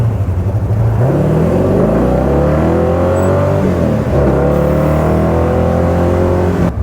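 A loud AC Cobra sports car engine roars and revs hard as its wheels spin and lose traction, the throaty growl climbing and dipping continuously with no voices.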